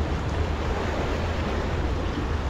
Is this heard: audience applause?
no